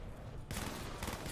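Rapid KSG shotgun gunfire in a zombie shooter video game, a dense burst of loud overlapping blasts starting midway and continuing to the end, with no talking.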